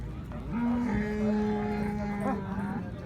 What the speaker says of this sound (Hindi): ये दोस्तों हैवाना चेक करें, माशाल्लाह बहुत ही प्यारी भैंस है।